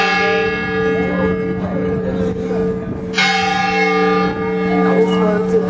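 Church bells ring out loudly over Seville, with sustained resonant tones and a fresh strike midway, heard from a high vantage point amid faint background murmur.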